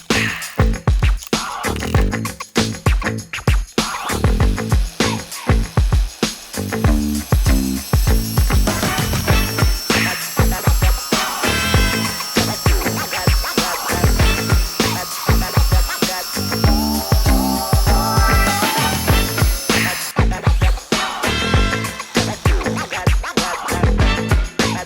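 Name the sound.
battery angle grinder with wood saw blade cutting wood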